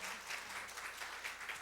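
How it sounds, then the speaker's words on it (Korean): Audience applause for a pastor at a church conference, a soft, steady wash of many hands clapping heard at a distance, evenly sustained with gentle swells and no talking over it. "오늘 귀한 말씀 전해주신 우리 박 목사님께 박수로 우리 감사하다 표시하겠습니다."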